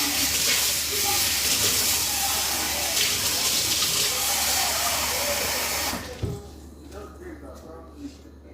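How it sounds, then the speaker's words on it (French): Water poured from a tap into a pan with oil, a loud, steady rushing hiss lasting about six seconds before stopping abruptly, followed by a few quieter clinks and a voice speaking. "Je vais mettre un peu d'eau."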